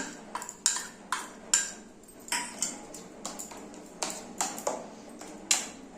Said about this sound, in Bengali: সব মিক্স করে নেবো